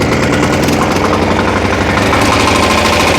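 A diesel walk-behind tractor engine runs steadily at idle, a constant close rumble with rapid knocking pulses throughout.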